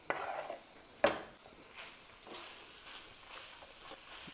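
Peach and banana are stirred in a pot on the stove with a spoon, giving light scraping and clinks, including one sharp knock, over a faint sizzle.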